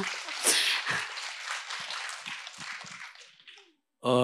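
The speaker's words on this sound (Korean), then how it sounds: "저희 큰 박수 좀 부탁드리겠습니다." A live audience claps and applauds at a cultural center lecture event featuring a choral ensemble, a dense broad wash of clapping for several seconds that thins out, then cuts off before a brief sung or spoken voice enters.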